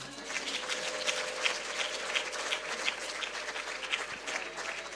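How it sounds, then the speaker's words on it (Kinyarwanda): An audience applauds at a religious gathering, a steady wash of clapping from many hands at moderate distance, continuing evenly for the whole stretch. "Imana nikomerwa amashyi."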